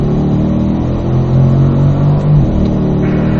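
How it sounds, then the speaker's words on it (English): A Corvette on a track pulls hard uphill, its engine rumbling loud and close with a rising, sustained growl that dips briefly near the end. "Start accelerating up the hill here."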